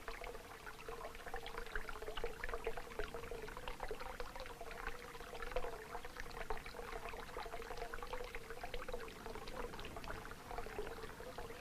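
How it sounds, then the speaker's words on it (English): Spring water trickles steadily inside a farm milk shed, a continuous soft running and splashing that stays even and close throughout, with no voices. "And the trickle of that water."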